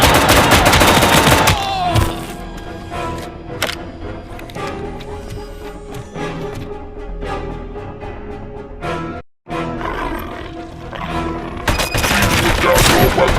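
In the Robocop Rogue City video game, the ED-209 robot fires rapid gunfire bursts, loud and close at the start and end, with scattered shots and game sounds between them.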